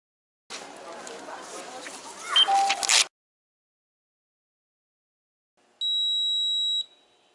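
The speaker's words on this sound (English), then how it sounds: "Do not tear off a boarding pass immediately after hearing the scanner beep." An airport boarding pass scanner gives a single steady electronic beep of about a second, clear and alone after a brief burst of handling noise and a stretch of silence.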